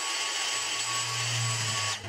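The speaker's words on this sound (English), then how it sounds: "First, I'll vacuum." A vacuum cleaner running inside an RV bedroom, a loud steady whine with a constant hum underneath, close up, then cutting off abruptly near the end.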